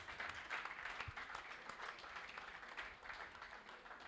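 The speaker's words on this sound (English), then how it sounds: "Please, a round of applause." An audience at a memorial colloquium applauds to welcome a speaker, giving a soft, distant patter of many clapping hands that holds steady throughout.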